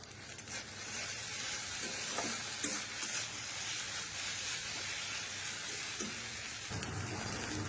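Noodles are stirred with spices frying in a pan, a steady loud sizzle with scraping and stirring strokes that continues without pause, alone with no talk.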